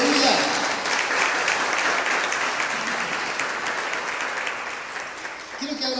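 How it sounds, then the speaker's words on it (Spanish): A church congregation claps during a live service, a dense, loud round of applause that starts strong and slowly tapers off over several seconds, with a voice speaking at the very end. "Ese aplauso por la sanidad ya."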